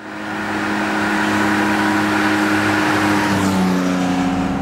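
A Porsche 911 engine swells in as the car approaches and drives by, a loud, droning tone that shifts pitch as it passes.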